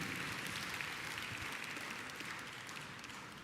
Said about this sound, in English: a round of applause for Hofstra University Director of Athletics